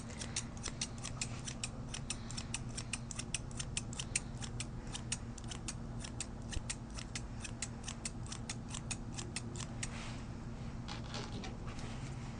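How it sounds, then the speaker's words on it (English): Thinning shears trimming and blending a schnauzer's coat during grooming, a steady run of quick, close metallic snips over a low background hum, continuing for several seconds. "you're gonna get your thinning shears just like we did back here"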